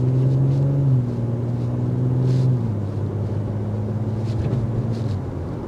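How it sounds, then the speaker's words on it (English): A 2024 Audi SQ5 Sportback's engine and exhaust drone at a low, steady pitch during calm cruising, the tone easing slightly as the engine settles, with faint road noise beneath. "And listen to the exhaust."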